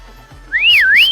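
A person whistles loudly and close, a single bright, sweeping whistle that slides up and down in a wavy tone lasting about half a second.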